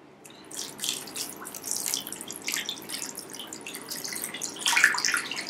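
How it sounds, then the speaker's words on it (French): Water trickles and splashes steadily into a bowl of crumbled fresh yeast and bread flour for artisan baker's bread, a close, continuous pouring sound that swells a little toward the end. "Et ensuite, je verse l'eau."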